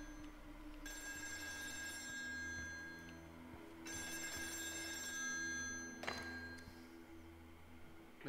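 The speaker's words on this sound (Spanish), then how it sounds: "Aquí se escucha un teléfono." Old telephone bell ringing in repeated bursts inside an abandoned oil rig in the video game Still Wakes the Deep, clear and fairly close over a low mechanical drone, with a thunk near the end.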